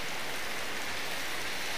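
Rain falls steadily during an outdoor outing, a constant dense hiss of drops on surfaces, close and even throughout with no voices.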